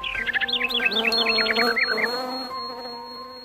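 Honey bees buzz steadily at a beehive, a close, continuous drone with bird chirps layered over it at the start and fading out midway.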